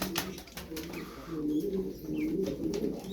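Tumbler pigeons coo softly and repeatedly at close range in a loft, their low, rolling calls overlapping throughout.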